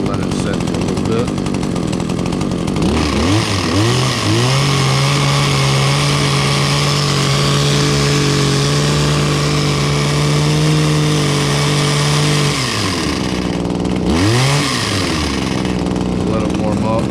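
A small engine idles on choke, its steady mid-pitched drone holding an even tone for several seconds, then dipping and picking back up near the end, loud and close throughout.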